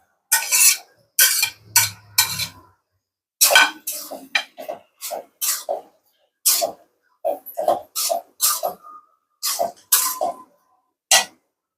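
Pre-fried koi fish pieces go into a cooking pan and are stirred, producing a string of sharp, separate clatters and scrapes of a utensil against the pan, evenly spaced with short gaps.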